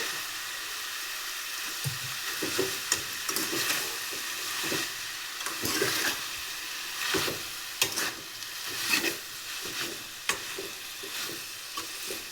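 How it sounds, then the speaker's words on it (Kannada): Fresh fenugreek leaves dropped into a hot pan of oil for a home-style curry, giving a steady close sizzle with scraping stir strokes breaking through at an irregular pace. "ಸೊ ಇವಾಗ ಇದಕ್ಕೆ ಮೆಂತ್ಯ ಸೊಪ್ಪನ್ನು ಹಾಕ್ತಾ ಇದ್ದೀನಿ"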